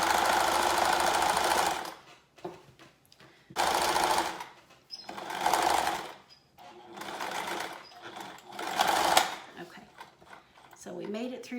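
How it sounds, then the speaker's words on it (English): A sewing machine stitches a window valance seam in four bursts of steady motor whir, each lasting a second or two, with brief pauses as the stitching stops and backs up to lock the seam. "I'm going to sew a few stitches and then back up just a bit to lock the stitches in place."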